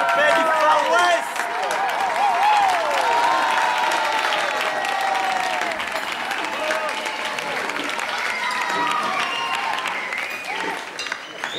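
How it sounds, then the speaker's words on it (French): A large audience applauds loudly and steadily at a summer camp's Wild West-themed contest, the dense clapping running throughout with a few cheers and voices mixed in. "Et on applaudit bien fort Charlotte qui prend la tête du concours"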